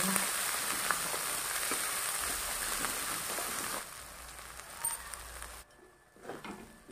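Garlic, onion and ginger paste fries in a pan with a dense, hissing sizzle that runs steadily for several seconds, then drops to a quieter crackle.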